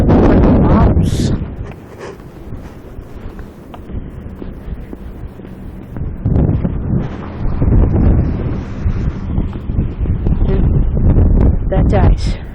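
Wind gusts buffet the microphone during a winter walk, with loud low rumbling surges that rise and fall while people talk.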